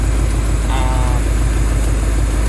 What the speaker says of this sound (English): You can hear a bit of a exhaust leak on the other side.